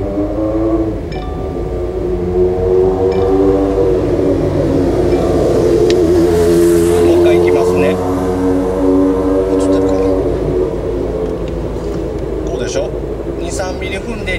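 A manual car's engine hums steadily as it is revved to about 2000 rpm and the clutch is slowly engaged with the handbrake pulled, the tone rising and easing gently, heard close under continuous speech.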